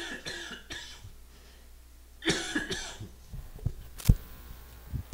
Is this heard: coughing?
yes